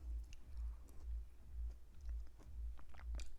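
Close crunchy chewing of vegan noodle soup with mushroom and fresh herbs, a steady rhythm of soft bites and mouth sounds repeating about twice per second, with no talking.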